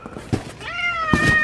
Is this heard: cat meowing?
yes